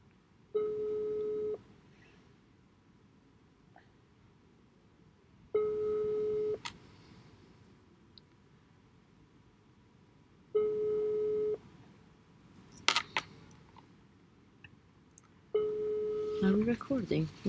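A ringback tone repeats on a phone line during a live stream of digital testing, four steady beeps about five seconds apart with quiet background noise between them and a few faint clicks.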